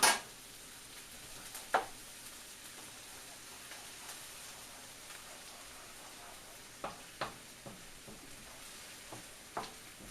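Scrambled egg fries with shrimp fried rice in a new nonstick pan, a faint, steady sizzle under occasional sharp scrapes and taps of a utensil stirring.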